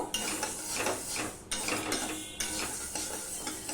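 Lentils dry-roasted in a hot wok, stirred with a rhythmic scraping and rattling of the dry grains against the metal, repeating in bursts at close range without speech.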